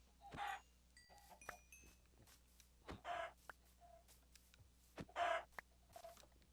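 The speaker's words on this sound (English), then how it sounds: "a lot of chickens." Chickens in the Minecraft video game give several short, distinct clucks spaced a second or two apart, each one clear against a quiet background, with no talk.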